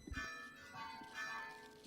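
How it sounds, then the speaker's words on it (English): Christmas bells ringing with a sustained, shimmering tone that swells twice, heard amid faint background chatter at a holiday gathering. "Dude, those bells are so good."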